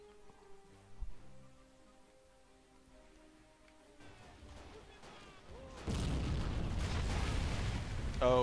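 Artillery shell slamming into a machine gun position in the video game Battle of Empires: Russia, with a thump and scattered battlefield noise building into a loud, sustained roar of fire and blasts near the end.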